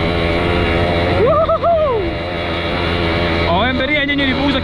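A Simson moped engine runs steadily and loudly up close, a continuous buzzing drone with two brief rising and falling revs. Someone talks over it now and then.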